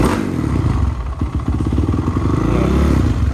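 Engine of a trike built from a 2006 Honda CRF450R, running on a classic carburetor during idle adjustment, a loud, close, continuous rough rumble with clattery mechanical ticking.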